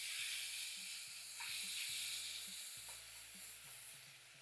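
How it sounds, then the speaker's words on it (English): Garlic and a large tomato sizzle in a pan for butter bean curry, a steady hiss running throughout with a few soft scrapes and taps of stirring, close and fairly quiet, no talk. "I'm going to add in 1 large tomato, stir in."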